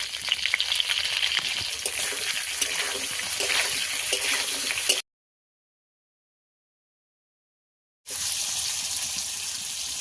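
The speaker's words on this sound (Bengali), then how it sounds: "আলু একটু ভালো করে ভেজে নেব।" Potatoes fry in a pan with panch phoron, giving a steady close crackling sizzle that cuts out to silence for about three seconds before resuming just as strongly.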